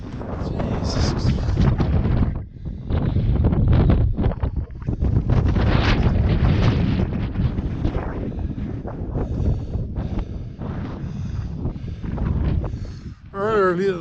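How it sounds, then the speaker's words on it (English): Strong wind on top of the Mt. McLoughlin summit, roaring and buffeting against the microphone in loud continuous gusts, with a voice talking briefly underneath. "Now I'm right in top of the wind."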